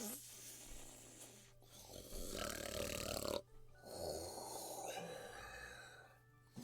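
A person fakes sleep with exaggerated imitation snores, rough snorting inhales and breathy exhales repeated in a few long bursts at close range, with short gaps between them.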